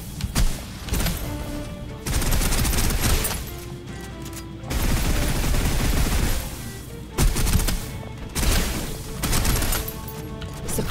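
Sustained bursts of automatic gunfire from the shooter game Snowbreak, loud and dense, firing in long volleys broken by brief pauses and separated by short gaps of quieter action.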